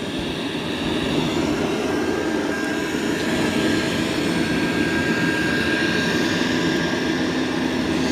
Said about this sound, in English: There's those mop pads spinning.